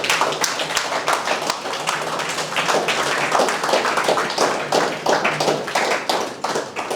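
A dense round of applause from an audience at a motivational talk, many hands clapping fast and loud at close range, sustained for several seconds.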